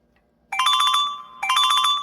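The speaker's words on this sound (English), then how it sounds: "There goes the phone again." Telephone ringing in a doctor's office, two electronic ring bursts of about a second each separated by a short pause, loud and close with no talking.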